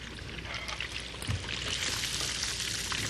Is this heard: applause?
no